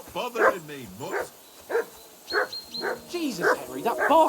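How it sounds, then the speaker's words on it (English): A dog barks repeatedly in Kingdom Come Deliverance 2, loud, close yips and barks coming in an irregular rhythm, with a voice speaking over parts of it. "Henry, that barking's driving me nuts. Can you get your dog to shut its beak?"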